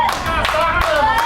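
Scattered clapping from a football crowd at an Arayat match, brief and fairly close, with a few thumps and tonal whistle-like lines running through the crowd noise.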